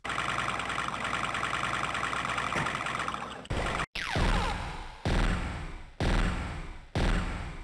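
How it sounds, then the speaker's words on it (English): An enemy sound effect from the video game Dark Arena rings out as a harsh, grating, alarm-like electronic wail, first a long steady stretch, then a series of repeated loud pulsing bursts. "many of the enemy sound effects are very grating to listen to"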